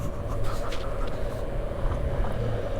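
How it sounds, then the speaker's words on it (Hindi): An electric scooter's motor gives a steady, droning whine with a low rumble, running continuously at an even level, close and fairly loud, with no pauses. "तो ये स्कूटर आवाज़ बहुत करता है।"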